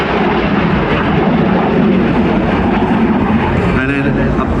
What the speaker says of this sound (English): watch as the aircraft pitches around